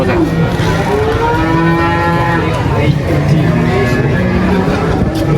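Limousin cattle at a livestock market moo loudly and repeatedly in drawn-out calls, several animals overlapping against a constant busy crowd murmur with people talking nearby.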